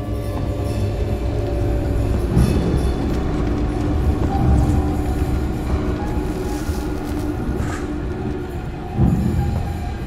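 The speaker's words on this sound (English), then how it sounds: "Hit by a space train." A speeding space train slams into the player in the sci-fi survival horror game Alien: Isolation, a loud, continuous rumbling rail roar with heavier clattering surges throughout and no talking.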